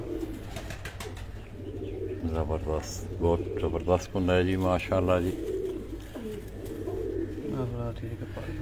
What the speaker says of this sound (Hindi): ये ब्रीडर कबूतर हैं दोस्तों